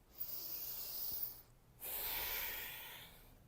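Two long breaths, an inhale and then an exhale, drawn deeply during a gentle morning yoga session. Each is a close, airy hiss lasting over a second, separated by a short pause, with no talking.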